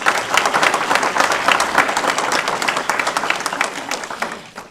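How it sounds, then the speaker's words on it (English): Sustained audience applause fills a board of education meeting room, many hands clapping densely and steadily at close range, tapering slightly toward the end. "Please give Nurse Lentz a round of applause."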